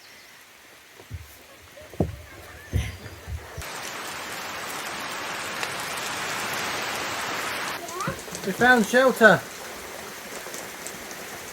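Steady rain patters outside a shelter at a nature reserve, a broad hiss swelling in the middle of the clip, with people speaking briefly before and after it.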